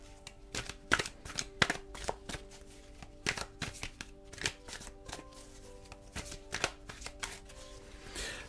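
A deck of cards is shuffled for a quiet ASMR love tarot reading, producing close, crisp riffling taps and snaps in irregular bursts against a hushed background.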